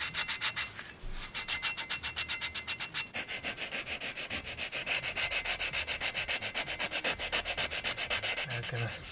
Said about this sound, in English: Start sanding with the 120.